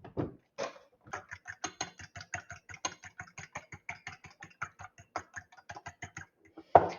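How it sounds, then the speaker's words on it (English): A whisk beats ingredients together in a bowl, giving a brisk, even run of close clicking taps, a few per second, with no talking. "and then whisk."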